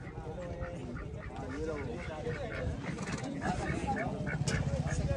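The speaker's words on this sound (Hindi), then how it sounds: "काफी समझदार बतख है" Duck quacking at the Pushkar fair, with repeated honking quacks from close by under ongoing talk and the busy murmur of a crowd.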